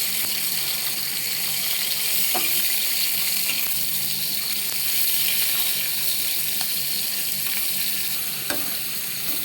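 Hilsa fish pieces fry in hot oil in a pan, a loud, continuous close-up sizzle and crackle with a few faint clicks now and then and no voices.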